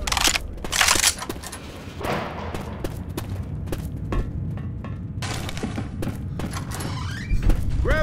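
Weapon being reloaded in the zombie shooter Left 4 Dead 2: a series of sharp mechanical clicks, clacks and thuds at irregular intervals, close up, over busy game background noise.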